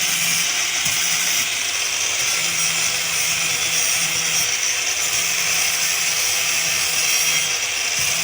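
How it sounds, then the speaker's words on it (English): Metal is ground for a rainproof garden torch, worked in one direction and then the other, producing a loud, harsh and continuous abrasive roar that stays even throughout. "Also this time we grind one direction first and then change to the second direction."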